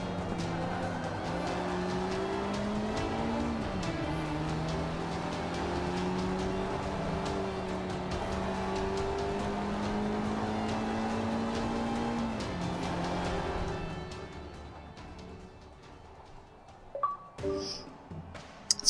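Sport compact car engine from Forza Motorsport 5 drones steadily at high revs through a race, pitch dipping briefly as the throttle eases, then fading toward the end with a few sharp knocks.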